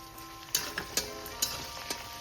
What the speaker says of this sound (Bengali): পেঁয়াজটা কিন্তু লাল লাল করে ভাজা হয়ে গেছে এবার আমি টমেটোটা দিয়ে দিচ্ছি